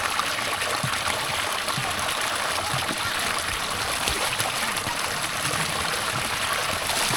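Water from a mountain spring flows steadily into a rural Lao village, a constant close rushing and splashing trickle with no pauses.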